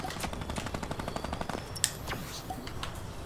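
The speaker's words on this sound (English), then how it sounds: "Minigun fire coming at me now" A minigun in the video game Fortnite fires rapid, even bursts of shots, fairly close, then stops abruptly with a sharp crack near the end, leaving scattered softer game sounds.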